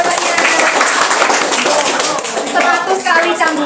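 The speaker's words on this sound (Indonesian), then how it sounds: "Beri tepuk tangan semuanya, benar jawabannya." A classroom of students clapping together, a dense, sustained round of applause filling the room at close range with a few voices mixed in.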